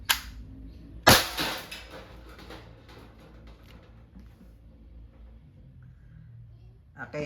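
An Umarex T4E TR50L airgun fitted with a laser fires with a sharp, loud crack near the start and another strong report about a second later, followed by quieter handling clicks and a faint final snap.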